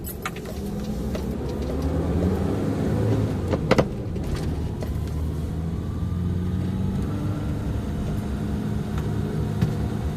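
Engine of a 1997 Toyota Liteace van with a five-speed column shift, heard from inside while driving: a steady low rumble with road noise and a few small rattles and clicks.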